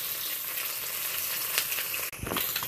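Rohu fish frying in oil in a pan, a steady close sizzle with brief stirring noise near the end.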